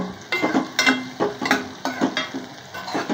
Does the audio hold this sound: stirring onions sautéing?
yes